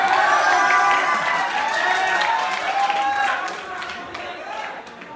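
Applause from a college audience at a comedy poetry show, loud clapping and crowd noise at first that slowly thins and fades.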